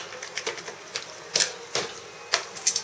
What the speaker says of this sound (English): You can kind of hear the bubbles coming out.